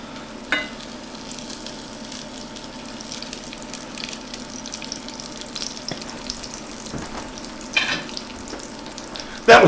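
Honey-crusted orange roughy fillets fry in oil in a pan, a continuous low sizzle with occasional utensil knocks and a louder clatter at the end, no talking.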